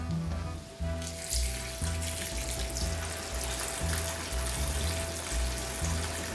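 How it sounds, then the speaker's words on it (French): Broth is poured into a paella pan, a steady gushing pour over hot sizzling rice that swells noticeably after the first second and continues unbroken, close by with no talking. "on ajoute le bouillon."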